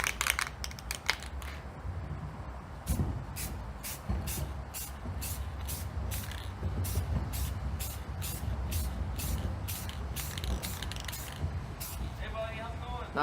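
An aerosol can sprays paint during a headlight restoration in short repeated hissing bursts, evenly spaced and fairly close, sounding over a low rumbling background with faint voices.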